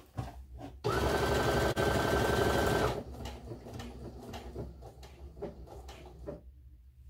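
Baby Lock Soprano sewing machine stitching fabric: a fast, even mechanical whir with a steady tonal hum runs for about two seconds, then stops, followed by quieter clicks and handling noises.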